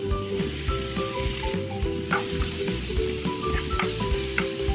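Boiled chickpeas fry with masala in a pan, giving a bright, constant sizzle layered with soft spatula scrapes and light metallic taps from stirring.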